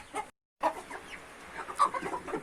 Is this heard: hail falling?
no